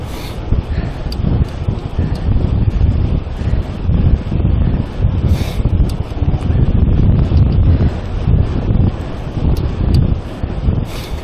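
Steady, loud headwind buffeting the microphone of a cyclist riding a vintage Mercier bike at the Vincennes polygon track, low roaring gusts, continuous throughout with no talking.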